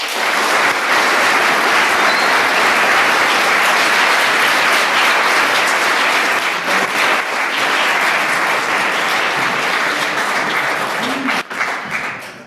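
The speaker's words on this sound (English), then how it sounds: "Let's give them another round of applause." Sustained, loud applause from a crowd after senior speeches, dense clapping filling the whole stretch with a slight taper near the end.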